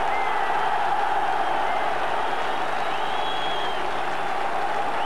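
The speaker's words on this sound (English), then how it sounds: "Listen to that crowd." Football crowd at a 1983 Rangers versus Dundee United match giving a manager a rapturous welcome, a dense, continuous roar of applause and cheering at steady loudness, with no break.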